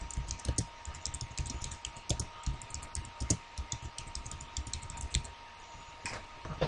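Computer keyboard being typed on, rapid uneven key clicks in a continuous close stream with a few louder taps, quiet overall and with no talking.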